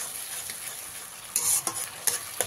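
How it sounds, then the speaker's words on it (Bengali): Tomato paste cooks over a medium flame, hissing softly as it is stirred in a pan, with a few scraping strokes near the end. Close, low in level, and with no speech. "গ্যাসের ফ্লেমটাকে মিডিয়ামে দিয়ে খুব ভালো করে প্রায় 2 থেকে 3 মিনিট আমি টমেটো পেস্টটাকে ভালো করে কষিয়ে নেব।"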